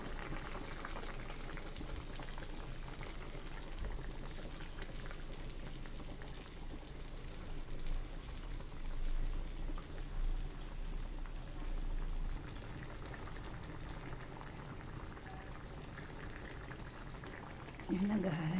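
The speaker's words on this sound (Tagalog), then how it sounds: "kumukulo na" Steady bubbling and hissing of water boiling in a pot, continuous throughout with a soft, close texture and brief clatter near the end.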